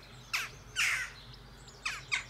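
A young crow calls out to its parents in four short, harsh squawks, one pair early and one pair late, moderately faint against a quiet outdoor background.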